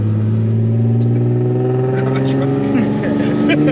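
Built turbocharged Nissan 350Z engine revving loudly and steadily up close, a strong droning tone rising slightly, with people talking over it.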